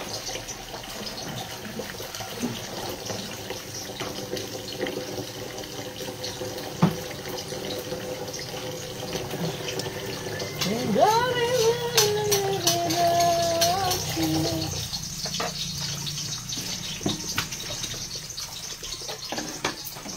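Hot water running from a household tap, a steady faint splashing stream that swells slightly midway, with some clattering and no talk.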